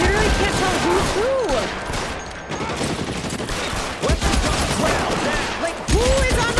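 Rapid bursts of video game gunfire crackle through a chaotic shootout, dense volleys of shots overlapping in quick succession while a voice talks over the action.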